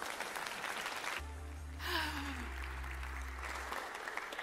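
Church congregation applauding to welcome Pastor Lauri McKinley at a Sunday morning service, a broad wash of clapping from the room with a steady low tone sounding beneath it through the middle.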